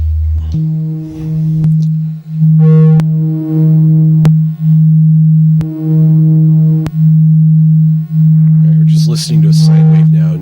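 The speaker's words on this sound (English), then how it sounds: "Let me get you back to a sine wave here so we can hear it more clearly." A steady, pure sine tone from a chiptune synthesizer holds a low pitch, pulsing on and off in short repeated notes, loud and alone.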